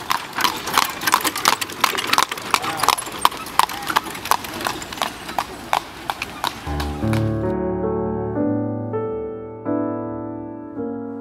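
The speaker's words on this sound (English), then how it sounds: "Slovenia is home to the Lipizzaner horse." Lipizzaner horse hooves clip-clopping at a steady trot on a hard surface in Slovenia, close and distinct, before the hoofbeats give way to a loud tonal sound with sustained harmonics in the final seconds.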